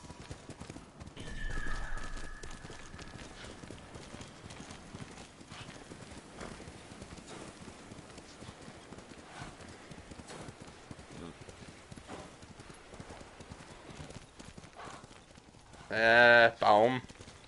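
Horse in the video game Ghost of Tsushima galloping with steady hoof clip-clop, then a loud whinny near the end; a voice speaks early on.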